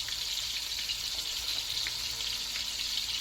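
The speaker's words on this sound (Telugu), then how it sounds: "తర్వాత వంకాయ ఒక్కొక్కటి వేసేయాలి. కొంచెం నూనెలో వేగితే బాగా మగ్గుతుంది వంకాయ." Eggplant pieces frying in a little oil for Nellore fish curry give a soft, steady, hissing sizzle at moderate volume with occasional small pops, and no voices.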